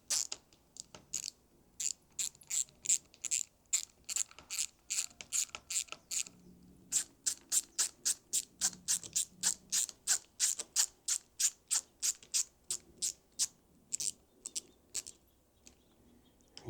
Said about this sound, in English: So let me go ahead and tighten this real quick,